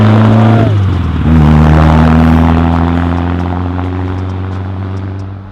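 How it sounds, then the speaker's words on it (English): A Caterham sports car passes close and loud, its engine note shifting down as it goes by and then fading with a steady droning tone as it pulls away. "Oh my God, it's a Caterham, dude!"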